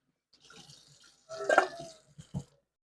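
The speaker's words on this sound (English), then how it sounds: "now that the water is running clean on our rice, it is not cloudy" Tap water runs over rice being rinsed in a pot, giving close, faint splashing and trickling in uneven bursts, with a louder gush in the middle and a few drips and clunks near the end.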